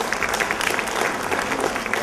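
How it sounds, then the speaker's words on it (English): A burst of steady clapping from a convention crowd, dense and continuous, filling the whole moment without a break. "Please give him a big round of applause"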